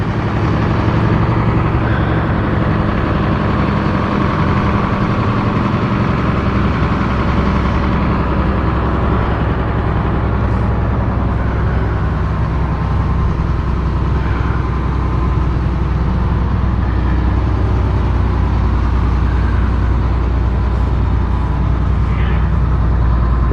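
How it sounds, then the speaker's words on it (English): Large engine idling steadily while being allowed to warm up, a continuous loud low rumble running unbroken throughout with little change. "We'll just let her idle up for a minute like that."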